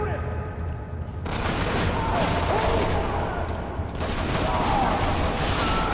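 Rapid bursts of pistol and submachine gun fire from the Hatred video game as four armed SWAT officers attack, loud dense gunfire running steadily throughout with a brief quieter lead-in.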